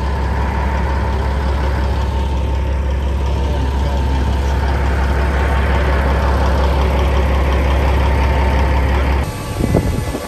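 A truck hauling a trailer loaded with live beehives rumbles with a deep, steady engine drone that stays loud and close throughout, then shifts abruptly near the end as it begins to pull away.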